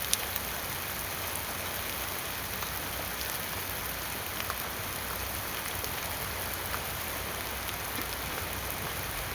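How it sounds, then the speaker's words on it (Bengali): Heavy rain falls in a steady, dense wash of hiss and patter on surfaces, with scattered sharper drop ticks standing out, continuous and fairly close throughout. "এতই বৃষ্টি পড়ছে।"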